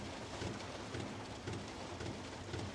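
Rain falls steadily on a camper van parked overnight in a town-centre council car park, a faint, even patter with soft rumbling pulses underneath and no voices.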